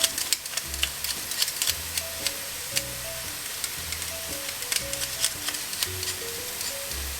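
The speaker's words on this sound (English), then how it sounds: "We're just going to crush our garlic and put that in." Crushed garlic sizzles in a hot pan for an Indian lamb neck curry, a steady crackling fry with scattered sharp pops and light clinks of utensils, close and moderately loud with no talking.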